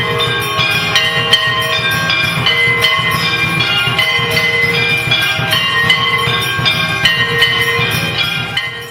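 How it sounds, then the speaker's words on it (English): Traditional bells and gongs, assisted by a machine, ring during arti at a temple in Vrindavan. The ringing is loud, dense and continuous, with rapid repeated metallic strikes layered over a sustained clang and no voices. "the arti going on, with the traditional bells and gongs that are played at this time in so many temples"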